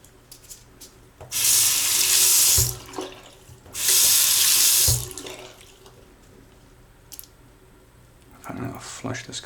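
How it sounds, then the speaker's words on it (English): Water runs from a tap in two strong bursts, each about a second long, to rinse a freshly printed resin part from a Kudo3D Bean printer. Quiet handling noises and small clicks fall between the bursts. "let me flush this with a little water"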